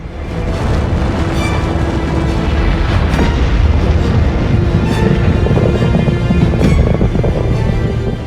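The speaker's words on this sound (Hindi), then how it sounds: "Atom bomb." An atomic bomb explosion effect: a loud, dense, continuous roaring rumble with a heavy low end, sustained without a break from start to finish.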